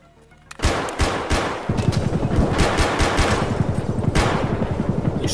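Loud automatic gunfire in a video game firefight at an interchange: a short quiet lead-in, then a sudden burst and rapid, steady machine-gun fire rattling on nonstop and close, with a few heavier cracks mixed in.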